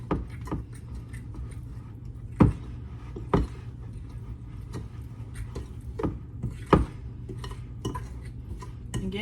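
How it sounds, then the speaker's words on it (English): Gatorade muffin batter being mixed in a bowl, a soft continuous scraping and stirring with occasional sharp clinks of the utensil against the bowl, no talking. "Don't mix it so hard it goes flying out of the bowl."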